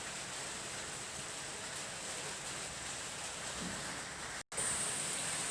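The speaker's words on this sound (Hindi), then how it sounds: "देखिए अभी बारिश हो रही है तो आवाज़ में कुछ प्रॉब्लम हो सकता है" Rain falls outside, a steady, faint hiss of broadband patter that continues evenly throughout, briefly cut by a momentary dropout near the end, with no talk.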